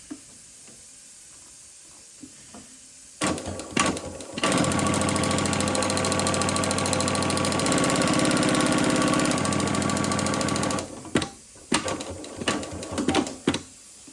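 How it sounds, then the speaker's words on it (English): A Golden Wheel CSU8671 industrial lockstitch walking-foot sewing machine with thread trimmer runs steadily for about seven seconds, a loud close mechanical hum and rapid stitching, bracketed by brief clicks and handling knocks before and after. "the walking foot makes it easy to sew on heavy duty such as leather, and it sews flawlessly every stitch"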